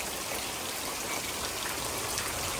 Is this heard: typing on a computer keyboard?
no